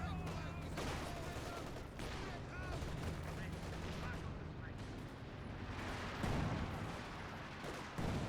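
Rapid anti-aircraft gunfire from dual Wirbelwind flak guns tearing through infantry in Company of Heroes 2, dense overlapping bursts over a continuous battle din with a voice talking over it.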